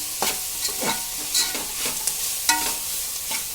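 Shredded cabbage fries in a pan for a chana dal cabbage curry, giving a steady close sizzle broken by several sharp scrapes and clicks of a stirring spoon, with no voices.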